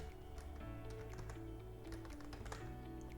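Code is being typed on a computer keyboard: rapid, continuous key clicks, close and quiet, in an uneven rhythm throughout, with no talk.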